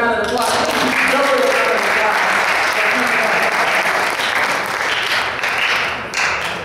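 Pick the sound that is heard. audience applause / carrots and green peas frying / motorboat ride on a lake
audience applause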